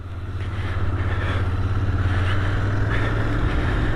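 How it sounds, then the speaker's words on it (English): A Royal Enfield Continental GT 650 twin motorcycle hums steadily on the road, a low parallel-twin drone that builds slightly in loudness while riding, with wind rush on top and no speech. "we're on the Continental GT 650 twin."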